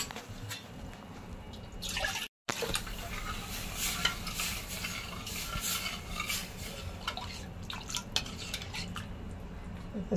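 Horse gram flour mixture being stirred in a pan with a spoon, scraping and clinking against the metal steadily and fairly close, with a brief gap early on and no talking.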